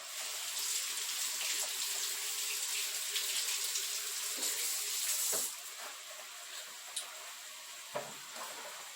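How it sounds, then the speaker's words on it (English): Steady running tap water pours for about five seconds as items are rinsed under it, then eases to a quieter trickle with a few small clinks and knocks, close by. "Okay, let me give these a wash."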